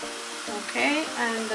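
Cold cooked rice for nasi goreng tipped into a hot pan, bringing a broad hissing sizzle with some scraping, steady and close.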